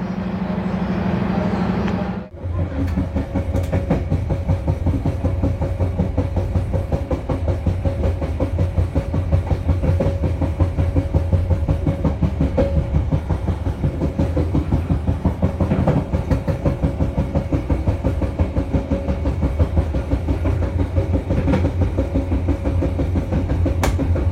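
Steady rumble and rhythmic clatter of wheels from inside a Matarmaja economy-class train running from Jakarta's Pasar Senen toward Malang, a loud continuous interior drone with a sharp dip near the start before the noise settles in again.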